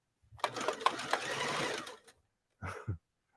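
A sewing machine stitches through a fur coat in one steady burst of about two seconds, then gives a brief second run after a pause as the bobbin runs empty. It sounds close and fairly clear, with no talking over it.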